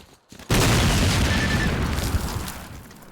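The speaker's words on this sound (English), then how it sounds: "What was that gigantic explosion?" A gigantic in-game explosion erupts suddenly after a brief quiet, a loud broad boom that rolls on and slowly decays over the following seconds, with no talking.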